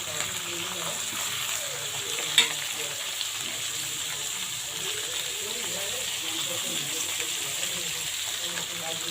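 Onion, garlic, tomato and green chillies frying in a pan for a spicy sea fish curry, giving a steady, even sizzle and hiss with a single sharp clink partway through.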